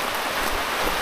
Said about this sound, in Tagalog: Ayan, umuulan, nakita nyo ba?